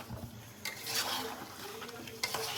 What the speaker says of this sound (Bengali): এই যে এখন আমি আলু আর রসুনটা দিয়ে দেবো, দুটো একসাথে কষে তারপরে জল দিয়ে দেবো।